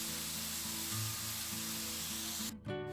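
Octopus stir-frying in a pan, a steady close sizzle with a soft low hum, briefly cut off near the end before resuming, no talk.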